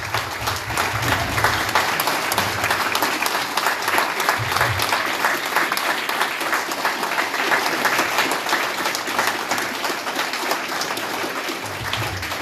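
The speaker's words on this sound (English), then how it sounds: "give them a round of applause" Steady, moderately loud audience applause at a town meet-the-candidates night, continuous clapping from many hands throughout with no speech over it.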